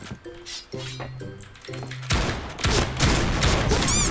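A Barrett sniper rifle fires in a shooting video game amid a burst of loud, dense gunfire after a few soft electronic beeps, with clattering and impacts trailing on.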